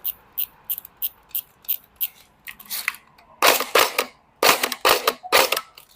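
Tokyo Marui Colt M16A2 electric BB gun being test fired in short sharp bursts, first a string of evenly spaced single clicks, then louder clustered volleys of rapid cracks, close and with no talk.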